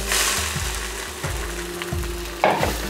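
Semolina poured all at once into a pan of hot oil for caraway couscous, with a steady close sizzle and frying hiss, broken by soft stirring scrapes and a louder burst of sizzle near the end.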